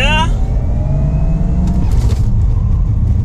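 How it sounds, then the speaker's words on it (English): A Porsche GT4 RS does a launch-control start at a Porsche World Roadshow, its engine note climbing sharply in pitch as it pulls away hard, loud and close inside the cabin, with a quick shift partway through. "We always do only one lap immediately with the launch control"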